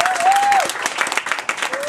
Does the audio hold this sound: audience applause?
yes